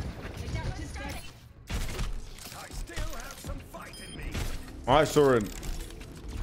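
Rapid gunfire from Bastion in Overwatch rattles in the background, a dense stream of shots running beneath a player's speech with mechanical clanks and bursts mixed in.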